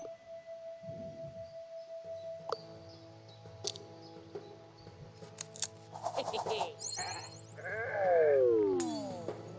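Sheep bleat in the video game Renowned Explorers amid layered game sound effects, clicks and musical chimes, with a brief low voice early on; the bleats come in short bursts over steady background tones.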